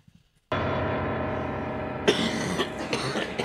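A single cough in an abandoned urbex site, sharp and close, followed by a ringing tone that carries on behind it.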